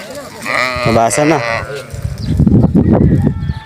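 High-breed sheep and goats on a farm in Saudi Arabia bleat loudly and close by, with a long wavering cry followed by overlapping calls while a person talks nearby.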